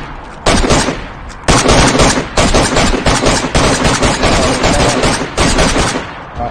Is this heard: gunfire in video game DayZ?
yes